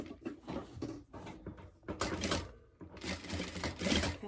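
A sewing machine runs bursts of stitches through a leather holder on a rifle barrel dust cover, back-stitching at a half-inch seam, close and loud with brief pauses between runs.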